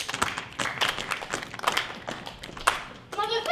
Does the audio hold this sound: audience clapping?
yes